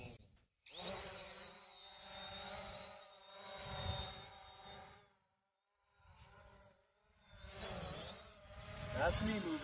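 Small SJRC F11 1080p folding camera drone spinning up its motors and lifting off, a steady buzzing whine with a rising and falling pitch that pauses briefly before resuming, heard close.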